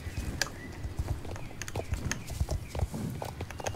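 Horse hooves clip-clopping at a walk while riding in the Star Stable Online video game, a steady rhythmic patter close by over soft game ambience.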